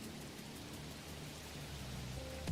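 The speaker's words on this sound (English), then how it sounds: "The rain looks amazing." Rain in the video game Arknights: Endfield falls as a soft, steady hiss of fine drops that continues evenly throughout, with no voices.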